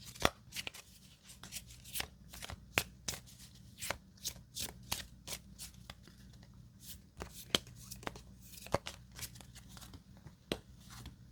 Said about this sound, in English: now we shuffle up for the next area